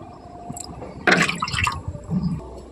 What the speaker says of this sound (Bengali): তো আমি তিন বাটি জল দিয়ে দিচ্ছি